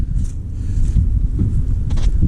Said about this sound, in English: Always when I want to make a video, it's so windy.